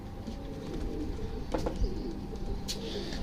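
Pigeons of an Indian breed, a male and female pair, cooing softly in a cage, low murmuring calls running steadily through the clip with a brief flutter or rustle near the middle.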